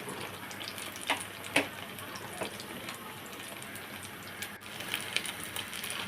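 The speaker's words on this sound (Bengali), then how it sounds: "আমি ছোটো ছোটো করে প্রথমে কয়েকটা বড়া ভেজে নিচ্ছি" Small flattened-rice pakoras fry in oil with a faint, steady sizzle and a few sharp pops and crackles, heard close and without speech.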